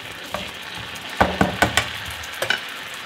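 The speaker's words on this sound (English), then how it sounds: "sizzling and sticky, real sticky" Braised octopus sizzles in a hot pan, with a steady frying hiss broken by a quick run of sharp spits and pops, close and fairly loud.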